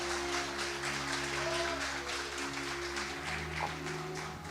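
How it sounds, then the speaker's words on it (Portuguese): A church congregation claps during a communion service, a steady mass of applause over sustained low organ or keyboard tones that hum beneath it throughout. "Pode dar uma salva de palmas para Jesus."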